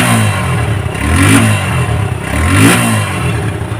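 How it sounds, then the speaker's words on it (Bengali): Near the exhaust silencer of a Suzuki Gixxer motorcycle, the engine is blipped twice, each rev rising and falling back to a loud, close idle. "সাইলেন্সারের সাউন্ড আছে।"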